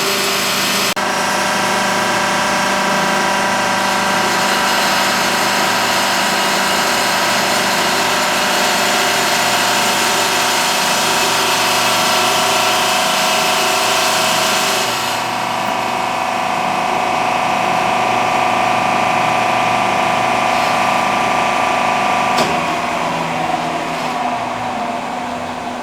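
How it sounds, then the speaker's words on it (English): A compression testing machine loads a concrete cylinder, giving a steady, continuous droning hum with a pumping, motor-like tone that shifts slightly partway through and holds for the whole stretch. "the machine is slowly increasing the load being applied to the cylinder until it senses failure."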